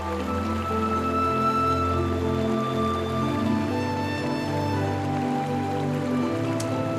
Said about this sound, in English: Spring rains are not fierce. They are clear, pure, gentle, and persistent